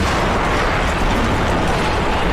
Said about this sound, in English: Then, with a booming roar,